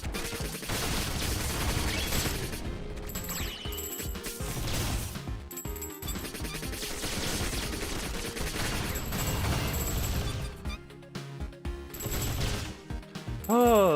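Grenades are thrown in the video game Rolling Star on hard mode, with a busy run of blasts, crashes and rapid gunfire-like bursts stacked over game music, staying loud and continuous with a brief lull near the end.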